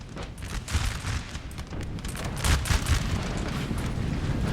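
Prussian artillery in a Napoleon Total War battle at Wavre, 1815: a steady barrage of distant cannon booms and crackling musketry rolls on without pause, dense and rumbling under a battlefield din.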